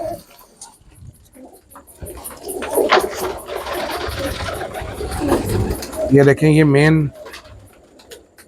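Teddy pigeons cooing up close, a run of throaty rolling coos swelling to a loud, strongly pitched call near the end, with someone talking over part of it.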